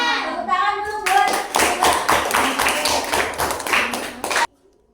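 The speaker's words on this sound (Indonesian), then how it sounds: "Tepuk tangan dulu buat." A classroom of children claps hands together in a burst of quick, loud, rhythmic claps lasting several seconds, preceded by brief speech, then cutting off abruptly.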